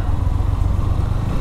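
A motorcycle engine runs on a winding off-road hill track, a close, loud, throbbing low rumble with a steady pulsing beat and no talk.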